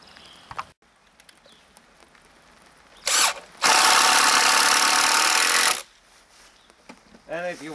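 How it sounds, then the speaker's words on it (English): A power drill bores through a rustic log bench seat and back into the end logs: a short whine, then a loud, steady burst of about two seconds that stops abruptly, with quiet room sound around it. "I'm going to drill in through the seat, back and into the end logs"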